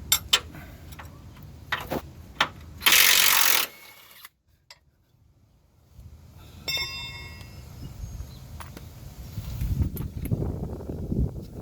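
A ratchet on a 19 mm socket works a control arm bolt on a Toyota 4Runner, giving sharp clicking ticks in short bursts close by, with a brief hiss and quiet gaps between.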